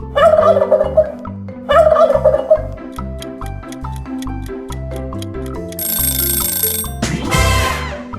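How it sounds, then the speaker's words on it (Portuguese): A turkey gobbles loudly in rapid bursts over a steady, rhythmic musical backing, with a bright ringing flourish near the end. "Um peru."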